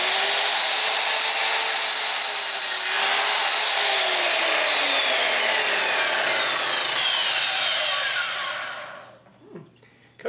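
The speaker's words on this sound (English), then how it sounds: "Hold on for a second while I cut this molding." A Ryobi miter saw (chop saw) in a garage spins up and cuts through wood molding, a loud, sustained whining buzz with a dipping pitch, then the blade winds down into quiet handling noises.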